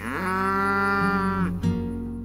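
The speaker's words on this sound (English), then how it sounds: "In the chorus of cows lowing across the pasture." Cows lowing in an open pasture, a single long, loud moo sustained close by, followed by a second shorter call near the end, with no voices.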